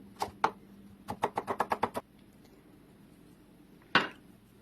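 A knife finely chopping broccoli leaves taps sharply on a cutting board in quick bursts of chops, a pause, then one final chop; close and fairly quiet.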